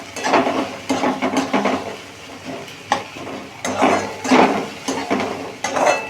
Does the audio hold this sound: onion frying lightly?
yes